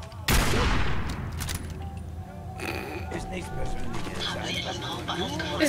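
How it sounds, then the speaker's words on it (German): A sharp, loud burst of gunfire from the video game Fallout 4 cracks out at the start, followed by quieter scattered shots and clattering game action. "Gut, ich schieße ihm in den Bauch."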